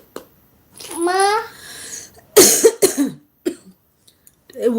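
A child with a cold coughs several times in short, harsh bursts, close and loud, with brief vocal sounds between the coughs and pauses of quiet.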